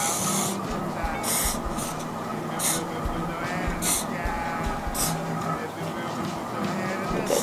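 Tresemme Salon Finish Extra Hold hairspray is sprayed onto hair in several short hissing bursts, each about half a second, near the microphone over low room noise.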